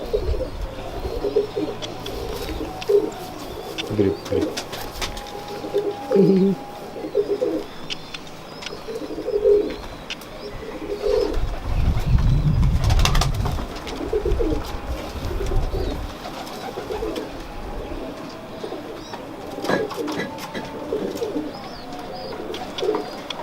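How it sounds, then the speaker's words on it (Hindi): Soft, low cooing of ringed teddy pigeons repeats throughout, with a louder burst of cooing midway and occasional faint chirps in the background. "ये टेडी कबूतर है हमारे, रिंगो वाले। रिंग वाले टेडी।"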